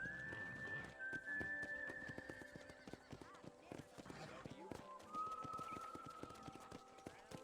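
Horses in a ranch corral in the video game Red Dead Redemption whinny and snort over steady hoof clip-clops, fairly near, with long whistle-like tones, a voice talking and faint background music.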